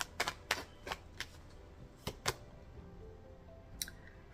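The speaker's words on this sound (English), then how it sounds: "One more shuffle, please." Tarot cards being shuffled by hand, a sequence of quiet, crisp riffling snaps and taps, a handful of short bursts spaced irregularly over a few seconds in a calm, otherwise hushed room.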